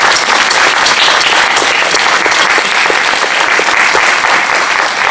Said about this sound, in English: Big round of applause for Philip and Norman